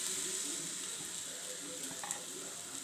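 Gram flour batter spreading into a hot oiled pan for pudla gives a steady close hiss and sizzle, with a brief bubbling crackle near the end and no talking.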